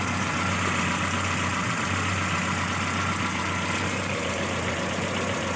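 A motorcycle engine idles steadily after a new carburetor has been fitted, running at an even, constant low rumble up close with no talk.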